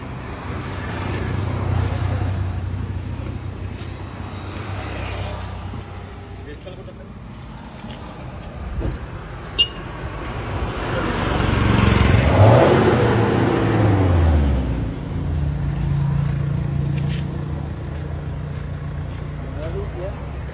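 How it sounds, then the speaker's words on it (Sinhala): A modified vehicle engine runs and is revved in a couple of slow swells, rising to a loud peak midway and falling back to idle, with someone talking over it throughout. "ඔය වගේ මේක පොඩක් මේ ස්ටාර්ට් කළා මේ පොඩක් රේස් කරලා පොඩක් පෙන්න"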